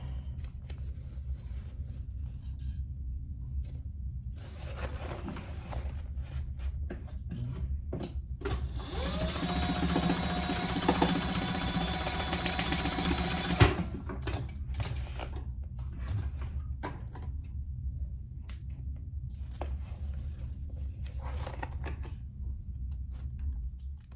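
Sewing machine stitching the boxed corners of a leather pouch lining, a steady mechanical run in the middle flanked by quieter handling, clicks and fabric shuffling, with no talking.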